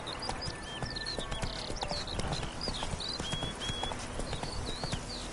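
A horse gallops in The Witcher 3, a steady run of hoofbeats over a busy game soundscape of wind and chirping birdlike calls, moderately close and without speech.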